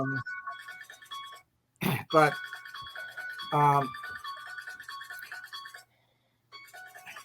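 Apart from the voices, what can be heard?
phone ringing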